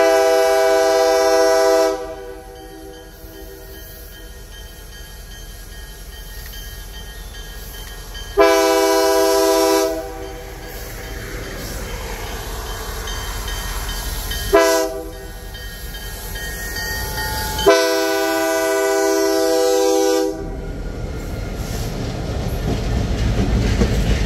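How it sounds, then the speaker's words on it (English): A Canadian Pacific freight train led by two freshly painted EMD locomotives, an SD40-2 and an SD30C Eco, sounds its horn in four loud blasts over a steady rumble of rolling cars that swells toward the end. "This train sporting two freshly painted Canadian Pacific EMDs, one being an SD40-2 and the second unit being an SD30C Eco."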